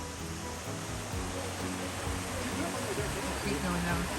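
A little creek flowing along a Big Bear hiking trail, a soft continuous rush of water under faint background sounds, steady and fairly distant.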